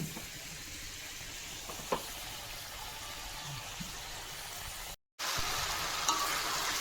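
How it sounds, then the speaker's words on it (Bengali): Potatoes fry in a pan in a village kitchen, giving a continuous, even sizzle and crackle close by, briefly cut off by a short gap near the end. "আলু ভাজতে দিয়ে দিয়েছি"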